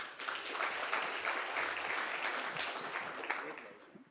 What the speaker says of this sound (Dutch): Applaus voor Matthijs.